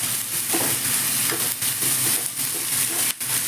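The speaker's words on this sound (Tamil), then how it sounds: "வெங்காயம், பச்சை மிளகாய், கருவேப்பிலை. இது ரொம்ப வதங்க வேண்டாம்," Onion, green chili and curry leaves sautéing in hot oil, a dense continuous sizzle broken by a few stirring scrapes and a sharp utensil knock near the end, close and loud with no voices.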